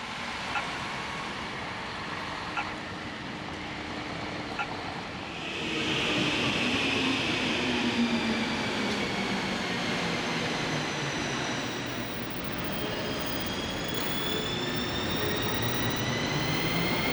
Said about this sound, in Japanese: ヘルシンキからタピオラ行きの電車に乗って3駅ラウタサーリという駅に着きました